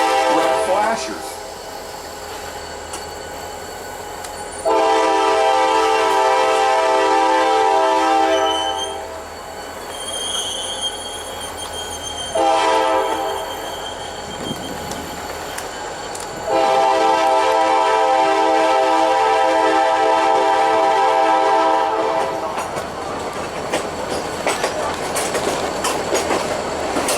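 Passenger train built from 1914–1949 former Reading Company commuter cars rolls past, its horn blaring in two long loud blasts with steady rumble and clatter of wheels between and after.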